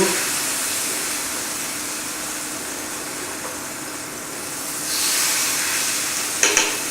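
Salmon fillets searing in a hot pan make a steady, soft sizzle that swells briefly louder near the end, punctuated by a couple of light clinks.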